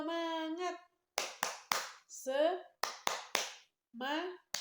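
A classroom 'tepuk semangat' rhythmic clapping routine: a sustained chanted call, then groups of sharp, close hand claps in quick bursts alternating with short shouted chant syllables from children.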